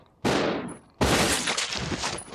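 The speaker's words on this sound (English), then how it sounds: "Alright, we'll waste some more pistol ammo on this guy." Two sharp pistol shots ring out in the survival horror game Resident Evil Zero, each a loud close blast with a short decaying tail, the second followed by a rougher stretch of echoing noise.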